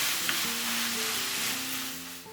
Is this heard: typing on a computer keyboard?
no